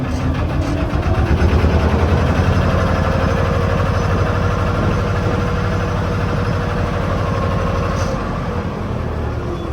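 Diesel engine of a narrowboat running in reverse while mooring against Armco, a steady loud low throb with continuous mechanical rumble throughout, no voices.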